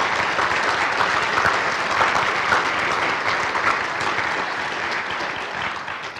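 A school audience at a National Signing Day event for students gives a sustained round of applause, dense and steady for several seconds before tapering slightly at the end.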